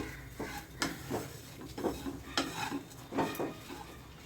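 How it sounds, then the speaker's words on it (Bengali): Oats being stirred and lightly toasted in a pan, with several spaced scraping and clinking strokes of a spoon against the pan, close and moderately soft, no talking. "ওটসটা দিয়ে একটু এটাকে হালকা করে নেড়ে চেড়ে নিচ্ছি হালকা একটু ভেজে নিচ্ছি"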